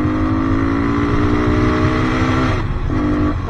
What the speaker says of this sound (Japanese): まあ、一応クローズドなんで、ちょっと加速してみます。